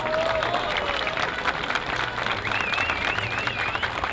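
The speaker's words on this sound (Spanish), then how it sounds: "Pido para ambas un fuerte aplauso." A boxing event crowd at a Three Kings' Day card applauds both fighters, with sustained clapping and cheering filling the venue and a thin whistle rising over the dense noise.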